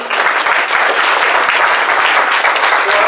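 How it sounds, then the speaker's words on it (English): A group of people clap for someone, a loud, dense burst of applause that holds steady for a few seconds with no talk over it. "Give him a round of applause."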